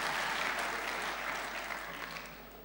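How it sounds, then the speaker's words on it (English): Congregation at a family church service clapping steadily, a dense even wash of applause that slowly tapers toward the end. "Don't clap, throw money"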